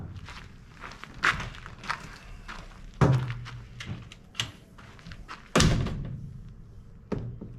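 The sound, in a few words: camper door being opened and shut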